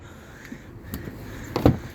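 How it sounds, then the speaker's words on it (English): Passenger door of an Autocruise Oakmont motorhome opening up close, with a soft click and then a louder latch clunk and rattle near the end, no talking. "And opening up the passenger door"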